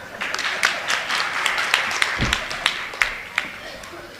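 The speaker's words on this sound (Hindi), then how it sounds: "आप लोगों ने तालियां बजाकर ये बताने का कष्ट किया कि आपको अब समझ में आ गया है" Audience applause at a political speech on Congress, the BJP and Brahmins, a dense patter of claps holding steady for several seconds with sharper individual claps standing out, under a brief voice.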